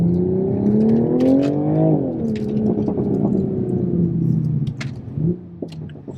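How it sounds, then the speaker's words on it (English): A Toyota Supra engine revs up in a rising, rumbling pull, then the pitch drops as it settles back, a turbo whoosh audible near the end of the run, loud and close with no talking. "driving around immediately after and kind of getting our reaction to doing some polls and hearing the turbo noise"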